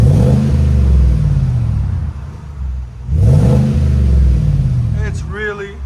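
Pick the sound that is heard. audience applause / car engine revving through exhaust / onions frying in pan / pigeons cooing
car engine revving through exhaust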